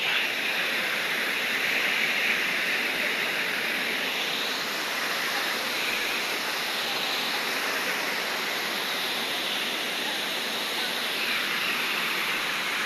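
A waterfall in Taif, Saudi Arabia, gives a steady, loud, broadband rush of falling water that holds even and unbroken throughout, with no voices over it.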